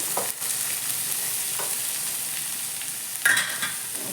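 Cumin seeds and green gram frying in a hot pan on a gas stove, giving a steady close sizzle with a few light stirring scrapes and clinks.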